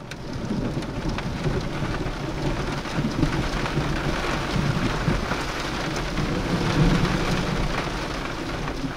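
Steady heavy rain pours through a nighttime thunderstorm, a continuous dense roar with low rumbling thunder underneath, broad and unbroken throughout with no voices.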